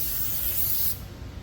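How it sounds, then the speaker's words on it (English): Brake cleaner spraying from an aerosol can onto a brake rotor on a 2002 Silverado hub, a close, loud, steady hiss that cuts off abruptly after about a second. "Just spray some brake clean on it."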